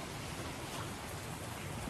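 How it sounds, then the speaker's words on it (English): Steady rain falls at night on a winter backpacking trip at East Fork State Park, a dense, even hiss of drops filling the air, soft and constant with no voices. "hopefully you can hear the rain coming down because it is coming down"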